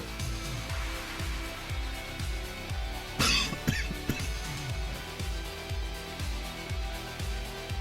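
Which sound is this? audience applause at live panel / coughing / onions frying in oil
coughing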